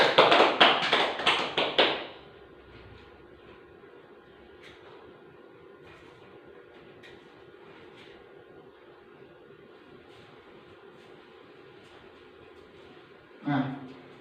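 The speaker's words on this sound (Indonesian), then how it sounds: "Terima kasih, tepuk tangan untuk Mas Alis." Applause from a class during a thematic teaching lesson, a loud burst of clapping in the first two seconds that cuts off to quiet room tone, with a short thump near the end.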